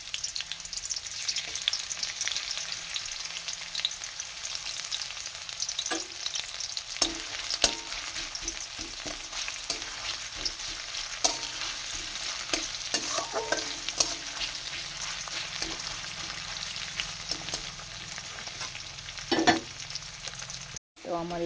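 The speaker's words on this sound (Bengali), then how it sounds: "তেল গরম হয়ে গেছে, পেঁয়াজ কুচিটা দিয়ে দেব।" Chopped onion frying in hot oil, a continuous close sizzle with frequent scraping and clinking of a spoon stirring in the pan, no talk.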